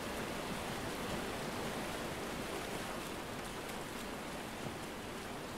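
A stream flows steadily in the survival video game Miscreated, a dense, even rushing wash of water that stays loud and unchanging throughout with no talking.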